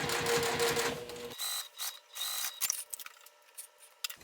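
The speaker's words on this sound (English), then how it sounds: "all I do is I just sew about 1/8 of an inch away. I back stitch, of course." A sewing machine stitching a basket lining closed, a loud fast whirring run of stitches that stops abruptly, followed by quieter clicks and handling noises close by.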